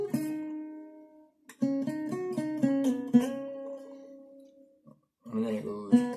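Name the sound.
guitar playing a riff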